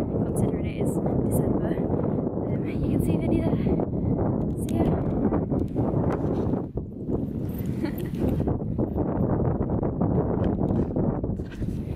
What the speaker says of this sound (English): It's very windy, but it's quite warm considering it is December.